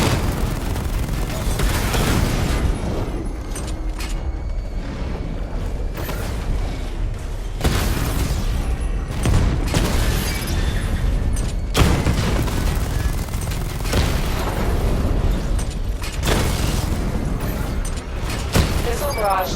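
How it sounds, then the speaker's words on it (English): Missile barrage explosions from a charged-up weapon in the Batman: Arkham Knight video game, heavy booming blasts repeating every few seconds over a constant loud mechanical rumble. "Charge up missile barrage to level 2 and destroy 4 active targets to complete diagnostic test."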